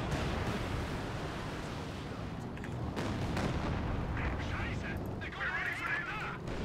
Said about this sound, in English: barrage hitting this whole sector